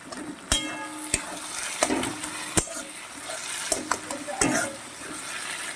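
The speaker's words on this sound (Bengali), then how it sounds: "ব্লু কালারের সমস্ত মশলাটা আমি মিডিয়াম আছেই ভাজবো" Spices fried with garlic and ginger paste over medium heat in a pan give a soft sizzle, broken by sharp scrapes and knocks of a spoon stirring against the pan, with no talking.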